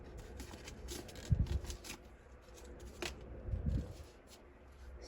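Paper being squash folded by hand while making an Avro Vulcan paper jet model, giving soft crinkles and two brief, louder rustling bursts close by over a quiet background.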